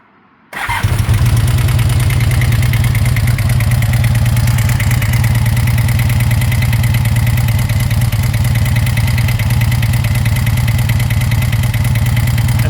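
A 1984 Honda VF750F Interceptor motorcycle engine fires up after a brief quiet moment and settles into a loud, steady idle with a rapid ticking, tappy valve rhythm throughout.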